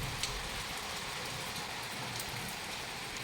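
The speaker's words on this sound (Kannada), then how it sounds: "ಮಳೆ ಅಂತೂ ಸರಿಯಾಗಿ ಹೊಡೆಯಕತ್ತು." Heavy rain pours steadily outdoors, a dense, even hiss with scattered drops striking surfaces, constant in level and without any talk.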